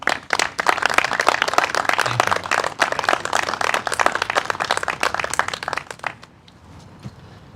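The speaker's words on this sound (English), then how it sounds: "How about another warm round of applause for Joel there?" Audience at a political candidate rally claps warmly after a song, dense and lively for about six seconds, then fades to quiet room noise.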